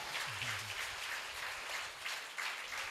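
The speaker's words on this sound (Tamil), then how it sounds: "ஒரு பெரிய கைத்தட்டு கொடுத்து நீங்கள் பாராட்டலாம்" An audience claps at a Tamil stage show, a dense, steady wash of many hands applauding, with a brief low vocal sound near the start.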